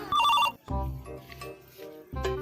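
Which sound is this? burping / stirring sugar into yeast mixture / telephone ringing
telephone ringing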